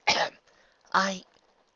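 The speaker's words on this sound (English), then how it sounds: "she heard Nightmare Moon cough impatiently" Two short, forceful coughs a moment apart, close and fairly loud, with quiet between them.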